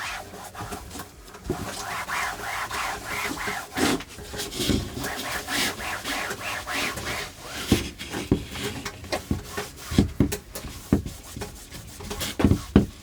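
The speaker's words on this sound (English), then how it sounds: "That noise you are hearing is my puppy cat, Roman, deciding to help me in my endeavor," A cat attacks a paper holder, making irregular scratching, rustling and scraping noises close by that come in bursts and grow busier and sharper toward the end, with no voices.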